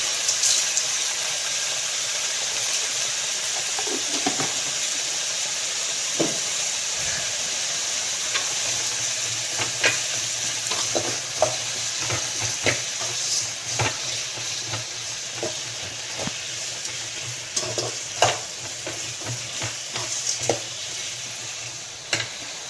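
Tomatoes sauté in a pan for coriander chutney, salted while cooking, with a steady loud sizzle and hiss and scattered clinks and scrapes of stirring throughout, with no talking.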